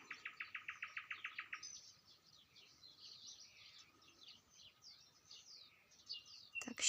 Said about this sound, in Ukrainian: Всі почули, як у нас співає Соловей